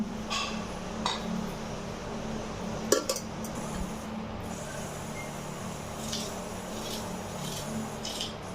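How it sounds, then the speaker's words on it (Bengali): Potatoes cut with a katari blade for fried potatoes, giving soft scattered chops and metallic clinks against a dish over a quiet kitchen hum. "তো আমি কাটারি দিয়ে কাটবো আলু।"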